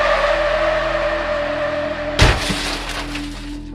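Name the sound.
car crash with breaking glass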